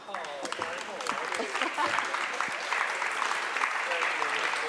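An audience at a cultural and educational conference applauds to welcome a panel of speakers to the stage, sustained crowd clapping with voices talking faintly underneath.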